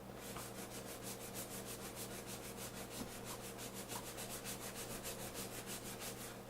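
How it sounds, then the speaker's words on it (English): A worn sandpaper sponge scrubs back and forth in fast, even strokes, making a continuous close rasping that pulses regularly throughout with no talking, as if sanding a surface for a bucket label project. "they're a little sponge that has like sandpaper on it. And so I'm just using this to make a lot of noise."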